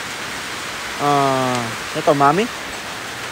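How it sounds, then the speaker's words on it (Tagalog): Steady rain falls as a constant wash of hiss throughout while people shelter from it, with voices talking briefly over the downpour. "Sumilong muna kami kasi umuulan."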